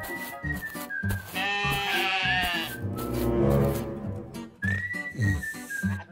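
A sheep bleats in a few drawn-out, quavering calls, with a shrill whistle-like tone mixed in and a brief pause before a final bleat.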